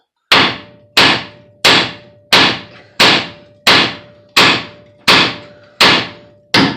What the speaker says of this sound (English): So you really gotta fucking whack on this thing.